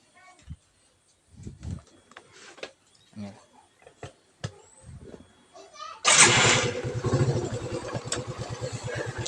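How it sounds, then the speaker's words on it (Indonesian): Motorcycle engine being started during a charging system check, first quiet clicks and handling noises with someone talking, then the engine catches abruptly and settles into a loud, steady putter of idling. "kita hidupkan motornya"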